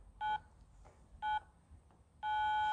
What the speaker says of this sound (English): So start on the squat when we hear the buzzer.